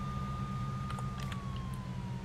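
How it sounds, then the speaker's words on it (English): A wailing police siren in a video game sweeps slowly over a steady low engine rumble, with a few brief clicks and effects scattered in the mix. "We have lights and sirens on."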